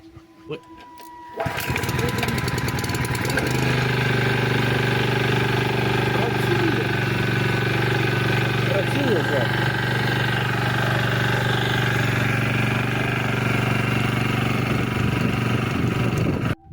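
A small generator engine cranks and starts after a valve adjustment, then runs at a steady, loud, even drone close by for the rest of the clip, ending abruptly.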